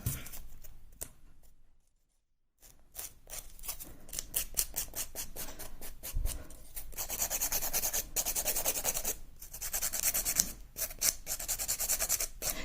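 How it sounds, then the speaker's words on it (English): Rapid back-and-forth rasping strokes of a nail file on hard acrylic nails, close up, in quick rhythmic bursts with a brief pause early on. "get a file and just start to file the nails down even more."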